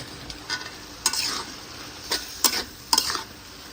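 Boiled taro stolons (kochur loti) go into a pan with tamarind and cook, with a steady sizzle and several bursts of stirring scrapes.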